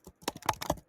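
Brief burst of computer keyboard typing, about half a dozen close, sharp keystrokes in under a second.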